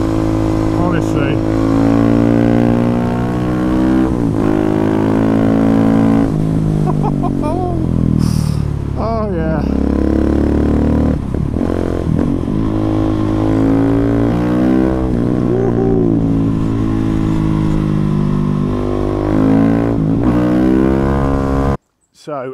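A heavily modified KTM 690 SMCR motorcycle climbs a damp hill road, its single-cylinder engine loud and close throughout, rising and falling with throttle and gear changes before cutting off abruptly at the end.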